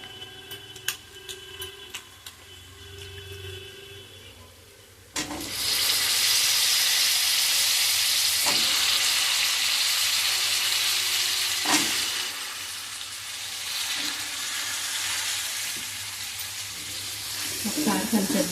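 Eggplant pieces dropped into a pan of onion and ginger-garlic paste set off a loud, steady sizzle after a quieter start, with a few stirring scrapes, for a potato-eggplant curry.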